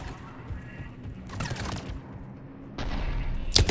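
Cerberus Harrier assault rifle firing in Mass Effect 3, with two short bursts of rapid gunfire over faint game background sound, the second burst ending in a louder impact.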